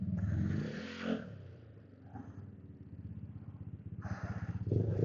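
A parked motorcycle's engine idling nearby with a steady low rumble and a faint rhythmic putter that rises in loudness at the end, with no one talking.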